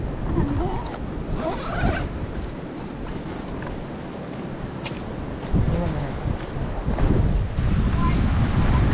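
Rough sea surf at the Look Fish Sanctuary in Romblon, Philippines, washes in a steady, loud roar close by, with gusts of wind buffeting the microphone.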